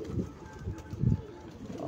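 Pigeons in a loft give soft, low coos in short repeated pulses close by, with faint background rustle and no talking.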